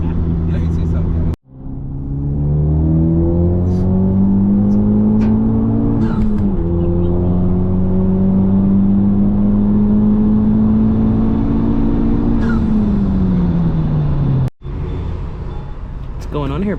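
A tuned Honda Civic Type R FK8 revs, a loud sustained engine drone that climbs and holds before falling away, cut off sharply near the end, close to the microphone.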